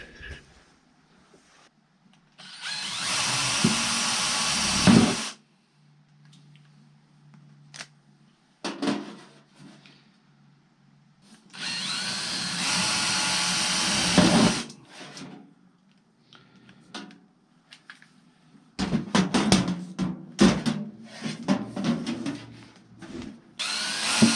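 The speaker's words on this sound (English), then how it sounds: "Nice sharp new drill bit, otherwise I'd have to centre punch." A power drill with a sharp new bit runs in several long bursts with pauses between, close and steady, followed by rattling and clattering handling noises.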